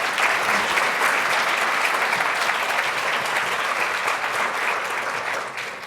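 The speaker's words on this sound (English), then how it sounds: "could we please have a round of applause for them as well?" An audience at an award ceremony for a social innovation challenge gives the finalists a round of applause, dense, loud and sustained clapping that holds steady before easing at the very end.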